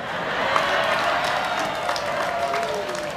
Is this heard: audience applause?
yes